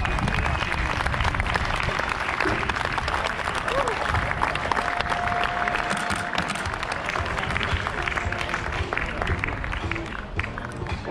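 Spectators at the Aarhus cycling track give a sustained, steady round of applause for a record ride, a dense crowd clapping throughout with a voice speaking over it.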